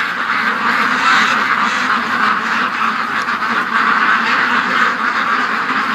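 A flock of ducks quacks nonstop, a dense, loud chatter of overlapping calls close by with no pauses.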